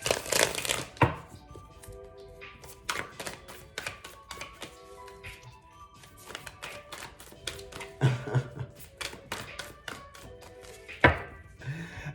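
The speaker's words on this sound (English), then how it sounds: "let me shuffle one more time" Tarot cards shuffled by hand in bursts, crisp riffling flutters and soft taps of the deck separated by short pauses, close and fairly quiet, with faint background music.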